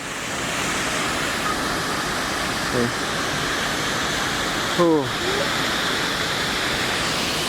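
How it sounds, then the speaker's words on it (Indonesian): Roaring waterfall at Curug Citambur in Cianjur, a tall fall with strong, heavy flow, a loud continuous wash of water filling the whole scene, with brief voices faintly breaking through. "cukup tinggi curugnya dan airnya juga deras juga"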